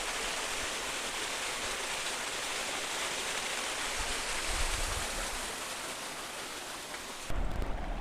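Water flows past rocks in the Australian bush near a whale lookout, a steady broadband rushing wash that stays constant and fairly close, with a brief bump of louder noise near the end.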